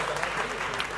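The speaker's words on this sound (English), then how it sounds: "Give them a round of applause." A quiz competition audience at a grand finale gives a round of applause, a brief dense burst of many hands clapping.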